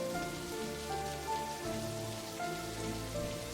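Steady rain in the Estate of Affairs video game patters continuously on surfaces, with soft sustained musical tones running underneath.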